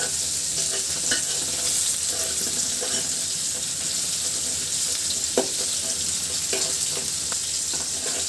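Onions and chilies fry in a pan for a rui fish curry with data and potatoes. A loud, continuous hissing sizzle fills the clip, with a few soft stirring scrapes and no talking.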